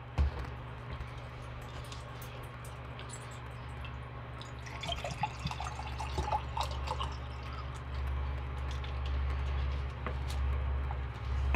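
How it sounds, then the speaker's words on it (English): Regular tap water runs into a wide-mouthed container, giving a soft, continuous trickle with scattered drips and splashes over a low background hum, growing slightly fuller as it fills. "You take your regular tap water, fill up a container"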